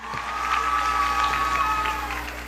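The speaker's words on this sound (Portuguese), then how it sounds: "uma salva de palmas aqui para ele" Steady applause from a crowd at a children's and youth environmental conference, continuous and fairly loud for a couple of seconds, with faint scattered voices mixed in.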